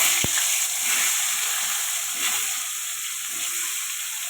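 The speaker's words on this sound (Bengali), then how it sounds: "তেলটা গরম হয়ে গেছে, পটলগুলো দিয়ে দেবো।" Pointed gourd (potol) slices frying in hot oil give a steady, close, loud sizzle with no talk, opened by a single brief thump.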